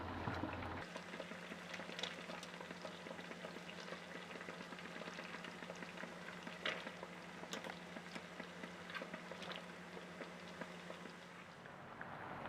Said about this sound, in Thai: ในระหว่างที่เคี่ยวเราก็คอยกดมะม่วงให้จมน้ำเชื่อมด้วยค่ะ